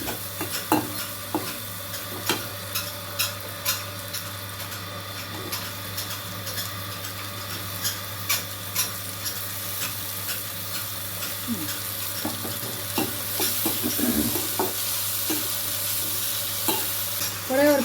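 Tomatoes fry in oil with onion, garlic and curry leaves for a brinjal curry, giving a steady soft sizzle under repeated light scrapes and taps of a spoon stirring the pan, with occasional faint clinks.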